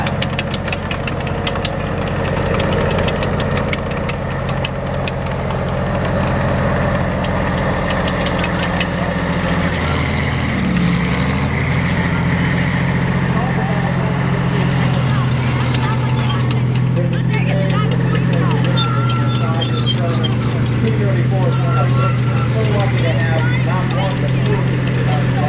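A T-34 tank engine running, a loud steady low rumble with a knocking idle throb that holds throughout, with people talking over it.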